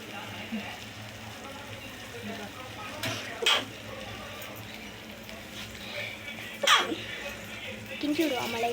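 Beaten eggs being stirred in a frying pan for Tamil-style egg podimas, with soft background scraping and a couple of brief louder utensil scrapes against the pan, fairly quiet overall.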